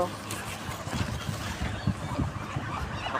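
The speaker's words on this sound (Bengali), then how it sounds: "আমার হাঁসগুলাকে এখন আমি খাবার দেব।" Domestic ducks quacking and honking before feeding, a scattered run of short calls at moderate distance mixed with background voices.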